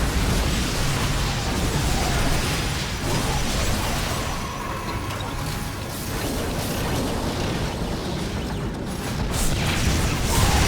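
Siege tanks firing and explosions rumbling during a StarCraft 2 battle, a dense, loud wash of blasts, crashes and mechanical clatter running continuously from start to finish.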